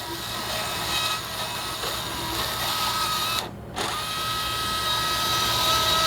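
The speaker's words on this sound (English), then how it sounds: "Now I'm going to remove that bone so that I can get the shaft of the burr past it." A Mako robotic burr cuts knee bone during a partial knee resection, a steady high-pitched drilling whine that runs almost continuously, cutting out briefly for a moment before resuming at the same level.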